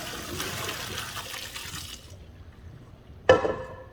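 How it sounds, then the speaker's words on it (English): Cooked pasta drained in a kitchen gives a rushing pour of water for about two seconds, then quiet, then a brief splash near the end; close and moderately loud. "So now I'm going to drain my cooked pasta."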